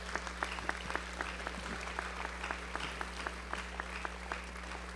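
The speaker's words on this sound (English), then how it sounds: "So if you take a few minutes and applaud it as well." Steady applause from a group at a graduation ceremony, a dense patter of clapping with a few sharper individual claps standing out over a low constant hum.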